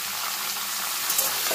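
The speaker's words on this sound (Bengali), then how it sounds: "থোর আর পেঁপেটাকে তেলের মধ্যে একটু নাড়াচাড়া" Banana stem and papaya stir-fried in oil, a dense continuous sizzle close by with light stirring scrapes.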